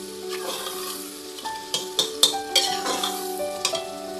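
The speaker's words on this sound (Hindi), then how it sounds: "अच्छा सा इसको मैं भून रही हूँ" Haleem masala with ground dry coriander roasting and being stirred in a pan, a steady low sizzle with scraping spoon strokes and a few sharp clinks toward the end, close and with no talk.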